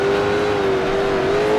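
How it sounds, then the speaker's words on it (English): A race car in Grand Prix Legends at a 1966 Can-Am round at Mosport, a steady, loud, close engine drone with a sustained tone under engine braking. "Just need that engine braking sometimes to help coax the car down a bit."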